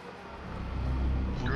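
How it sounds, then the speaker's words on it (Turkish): A car engine rumbles low and grows slightly louder in the H1Z1 King of the Kill battle royale game, a steady nearby motor drone with voices talking over it. "Buraya yakın bir yerde araba sesi var."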